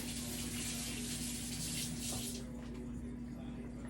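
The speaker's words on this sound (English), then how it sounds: "Let me rinse my hands off here." Water runs from a kitchen tap as hands are rinsed at a sink, a steady close hiss and splash that eases slightly toward the end.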